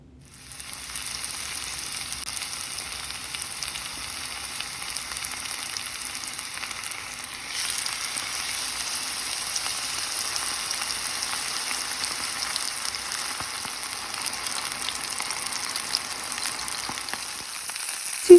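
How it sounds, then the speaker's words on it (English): Chicken frying in a little oil in a pot, a steady close sizzle and crackle that runs without a break and grows slightly louder partway through, with no talking. "I just add some oil to the pot, just a little bit of oil, and then I'm just going to start frying my chicken."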